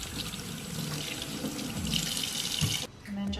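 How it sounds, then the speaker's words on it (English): Tap water runs steadily into a sink as halo hair extensions are rinsed beneath it, a continuous splashing rush that shifts briefly as the hair moves through the stream. "you just want to really make sure that you rinse this thoroughly"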